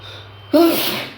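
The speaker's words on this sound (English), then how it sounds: "I'm sneezing like mad" A single sharp sneeze bursts out close up, preceded by a short intake of breath, then fades quickly.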